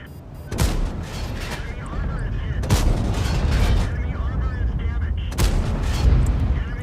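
Tank cannon fire in the World of Tanks game, a T-57 heavy tank match with HEAT premium shells: repeated loud booming shots about every few seconds over continuous rumbling battle noise.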